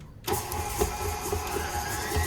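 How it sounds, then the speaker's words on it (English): A stand mixer creams butter with white and brown sugar in one bowl, a steady motor whir with faint rhythmic thumps of the beater. "I'm using a stand mixer for this one"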